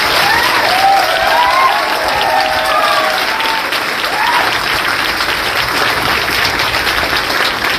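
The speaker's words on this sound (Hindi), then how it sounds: "जोरदार ताली।" Loud, dense applause from an audience fills the whole stretch without a break, a steady wash of many hands clapping at close range with faint voices mixed in.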